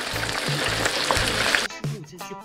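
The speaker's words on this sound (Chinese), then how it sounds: "接着直接开始炸6分钟" A large chicken cutlet deep frying in oil, a steady dense sizzle and crackle with low rumbling bursts, then a sharper, sputtering stretch near the end.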